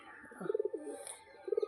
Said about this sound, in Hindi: देखो कितना सारा कबूतर है